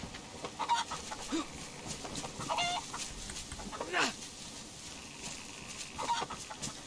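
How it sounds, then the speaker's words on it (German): A chicken in a video game gives several soft, scattered clucks over a quiet background hum, with short pauses between calls. "Ein Huhn. Das kann wenigstens nicht so schnell weg."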